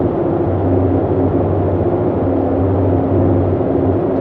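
Steady, loud drone of the twin propeller engines of a Boeing 247D in a flight simulator game, running at around 2200 RPM in a climb, continuous and even with no voices.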